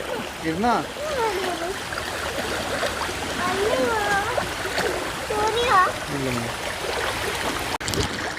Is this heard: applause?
no